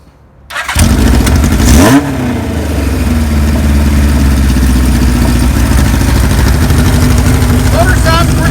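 1978 Kawasaki KZ1000A motorcycle engine cranks briefly, catches and fires up loud and close, with a quick rev before settling into a steady, rumbling idle that carries on to the end.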